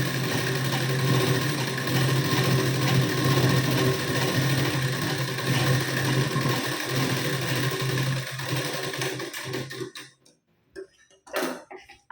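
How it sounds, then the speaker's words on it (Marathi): Sewing machine running a second row of stitches over an existing blouse seam, a fast, steady mechanical rattle that runs loud and continuous for about ten seconds, then stops with a couple of brief clicks. "आता यावर आपण डबल शिलाई देऊन घेऊ."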